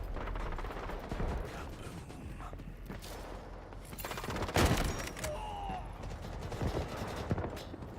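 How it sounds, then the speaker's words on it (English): Shotgun blasts from hip fire in the shooter game Delta Force crack out in a quick irregular series amid mechanical clatter, with one especially loud boom midway and a player talking underneath. "The shotguns in Delta surprisingly have great hip fire"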